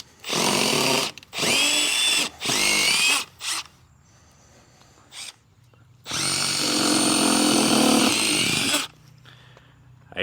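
Power drill backing a screw out through caulk, several loud whirring bursts in short stops and starts, then one longer steady run, close up with brief quiet gaps between.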